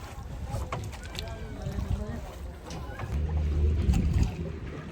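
Small boat gliding across water, with steady wash and lapping, low rumble and light wind buffeting on the microphone, swelling louder toward the end; faint voices mix in at times.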